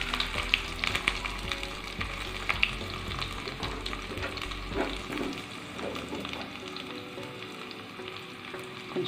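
Crushed garlic hitting hot oil for rasam, a busy crackling sizzle with a burst of spattering at first that settles into steady frying, with stirring clatter throughout.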